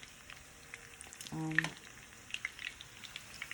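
Taquitos frying in hot oil, a soft steady sizzle with scattered small pops and crackles, and a brief clunk of tongs or the pan partway through.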